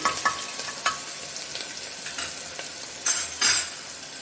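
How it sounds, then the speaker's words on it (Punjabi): Onions sizzle and crackle in hot oil as a tempering for chana dal, with a steady fry broken by a few clinks and stirring scrapes of a utensil. "ਪਿਆਜ਼ਾਂ ਨੂੰ ਪਹਿਲੇ ਲਾਲ ਕਰਾਂਗੇ"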